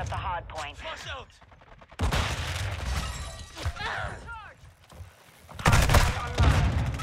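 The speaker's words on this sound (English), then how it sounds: "Tossing grenade." Grenade explosions and gunfire in a Call of Duty match: a heavy blast lands midway, followed by bursts of rapid shots and another loud explosive burst near the end, with voices talking over parts of it.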